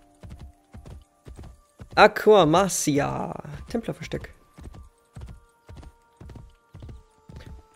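Horse hooves clip-clop in a steady rhythm in the video game Assassin's Creed Brotherhood, with someone talking over the middle stretch of the hoofbeats.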